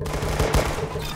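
Gunfire in the Roblox shooter game Arsenal, a dense, continuous burst of shots filling a short moment without a break.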